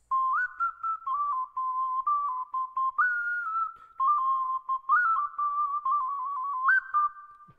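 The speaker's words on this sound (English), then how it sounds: "I'm going to whistle in his ear and play a tune" A person whistles a tune, a clear close melody of short phrases with little pauses between them, alone and without speech.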